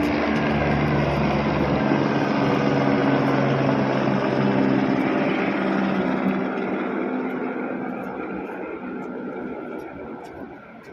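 A steady, loud mechanical drone of a passenger helicopter's engine and rotor on the Kedarnath route, slowly fading over several seconds.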